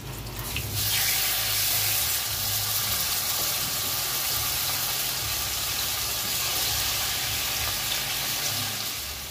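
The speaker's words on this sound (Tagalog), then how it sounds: "Yung karne naman guys, ang lutuin natin guys." Beef frying in a pan for bistek tagalog makes a loud, continuous sizzle that holds steady throughout, close up and with no talking.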